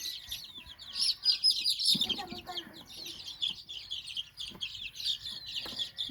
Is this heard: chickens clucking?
yes